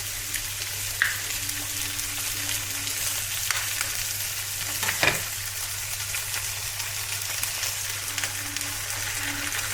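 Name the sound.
eggs frying in a pan with the Spanish dish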